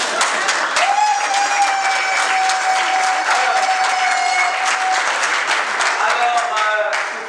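Wedding guests at a civil marriage ceremony applaud steadily and continuously, a dense unbroken patter of claps with a sustained tone and some murmured voices running beneath.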